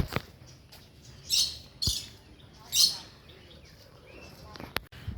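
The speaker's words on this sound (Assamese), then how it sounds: "চৰাইৰ নাম লাভ বাৰ্ড" Lovebirds calling at a zoo: a few sharp, bright squawks and chirps in short bursts over quiet background, with faint clicks between calls.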